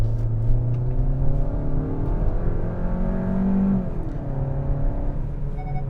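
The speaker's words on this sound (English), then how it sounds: "the thrust is still effortless in this car" A front-wheel-drive 2021 Kia K5 GT Line with a 1.6-liter engine pulls hard under acceleration, its steady engine drone rising in pitch through a gear change, with road rumble underneath and no talking.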